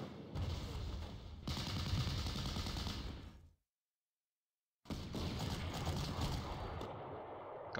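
Gunfire from garrison troops in the WWII strategy game Panzer Corps, set during a landing on Sicily: dense, continuous bursts of shots that stop abruptly into silence, then resume just as heavy.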